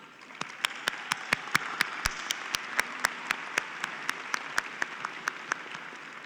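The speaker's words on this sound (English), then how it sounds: "Let's give them a huge round of applause" An audience at a high school graduation ceremony applauds, with a dense wash of clapping and a few sharp, regularly spaced louder claps standing out, moderately distant and sustained.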